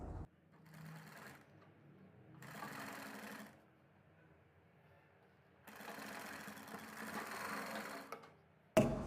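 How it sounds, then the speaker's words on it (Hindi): A sewing machine stitches a shirt collar in three loud whirring runs separated by quiet pauses, close by, with a sharp click at the very end and no talking. "तो दोस्तों ये सिलाई हमारी कंप्लीट लग गई है।"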